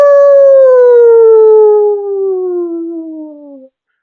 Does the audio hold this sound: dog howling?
yes